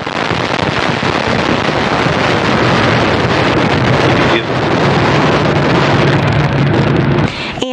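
Antares rocket engines roar at full thrust during launch from the Wallops Flight Facility on the Northrop Grumman NG-17 cargo mission: a loud, continuous broadband rumble that stays steady throughout, dips briefly once and cuts off at the very end.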